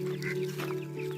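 Soft clucking from chickens near a coop, faint and steady over a low background hum, with no talk.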